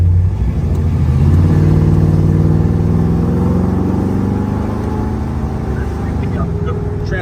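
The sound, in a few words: muscle car driving, engine and transmission shifting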